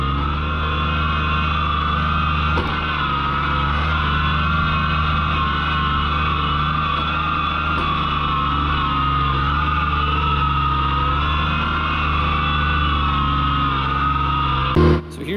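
A John Deere 755 compact tractor on turf tires drones steadily as it drives through a small wet spot on a trail, engine close and constant, with a brief knock near the end.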